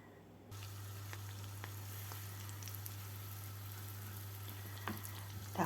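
Butter melting in a pan at a gentle simmer, a soft steady crackle with scattered small pops and spits over a constant low electrical hum, quiet and without talking.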